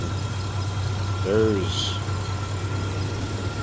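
A 1985 Oldsmobile Toronado Caliente's 307 engine idles smoothly with a steady low hum, heard up close in the engine bay while someone speaks briefly over it.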